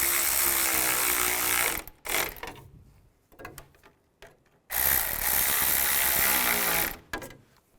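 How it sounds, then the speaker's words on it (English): Hand ratchet tightening screws on a 2002-2009 Chevy Trailblazer during timing chain replacement, rapid close clicking bursts in two main runs separated by quieter gaps with lighter clicks. "Tighten those down."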